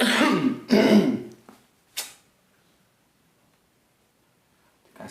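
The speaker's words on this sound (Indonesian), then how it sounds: "Batuk." A man clears his throat and coughs in two harsh bursts, followed by a short cough, then near silence and a faint creak at the end, recorded close in a quiet room.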